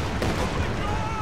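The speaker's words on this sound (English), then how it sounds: "Katyusha barrage firing." Katyusha rocket barrage firing in a World War II strategy video game, heard as a dense, continuous roll of overlapping launches and blasts filling the whole short stretch at steady loudness.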